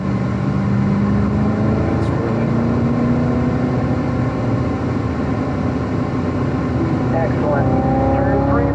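Chevrolet Corvette Z06 engine on a racetrack, pulling steadily and loudly as it accelerates out of a turn, with a sustained droning tone that rises near the end while an instructor speaks over it.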